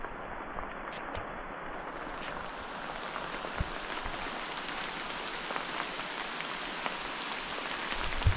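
Heavy jungle rain pours without letup, a dense, even hiss of drops on leaves and ground with occasional sharper splats, steady and close throughout with no voices.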